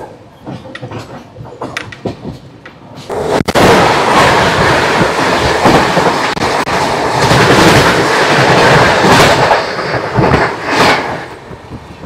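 Kumbh Express passenger train heading toward Haridwar and Dehradun, a loud roaring rush of the moving carriages with rattling and sharp clanks, starting quieter and swelling abruptly after a few seconds.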